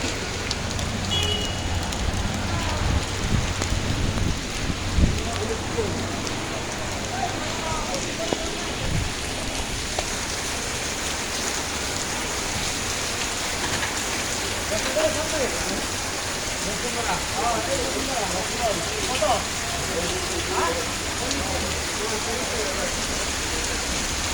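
Steady rain patters and hisses on surfaces throughout a flooded lane in Hatirpool, Dhaka, with scattered louder drops and faint voices now and then in the background.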